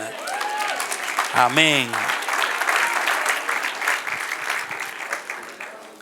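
A church congregation breaks into sustained applause mixed with cheering, filling the room steadily for several seconds after a brief spoken exclamation.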